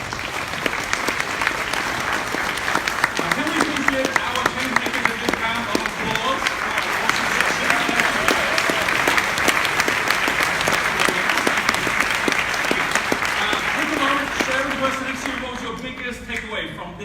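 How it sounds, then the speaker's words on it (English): A big round of applause from an audience cheering change makers at a live session: loud, sustained clapping from many hands that swells in the middle and tapers slightly near the end. "Can we please give our change makers a big round of applause?"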